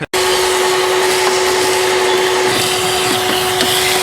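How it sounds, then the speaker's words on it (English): A vacuum cleaner runs loud and close with a steady high whine while cleaning under the removed cowl of a 2001 VW Beetle, starting abruptly after a brief silence and continuing without speech. "This would be a perfect time to vacuum in there."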